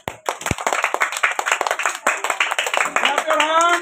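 Children clap their hands in quick, uneven bursts at a school Teachers Day celebration, the close, sharp claps running steadily under an adult voice and cheering children.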